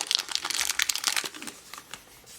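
Scissors cut open a foil blind bag up close, giving bright crinkling and snipping that is loudest at first and then trails off into softer rustles.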